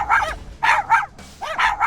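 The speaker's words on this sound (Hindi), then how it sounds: "कुछ देर बाद 2 कुत्ते आकर उस पर भौंकने लगे।" Two dogs bark at a man digging a grave in a cemetery, giving several sharp, close barks in quick bursts with short gaps between them.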